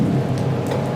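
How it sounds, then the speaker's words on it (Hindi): Heavy rain serves as a sound effect under a spoken story, a steady, dense hiss and patter of falling water that keeps the same level from start to finish. "बारिश तेज हो रही थी।"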